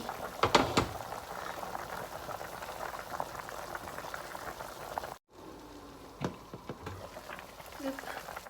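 Salmon head sour soup bubbling in a pot, a steady simmering hiss with scattered clinks and knocks of cookware, briefly cut off and then continuing more quietly, with someone talking over part of it.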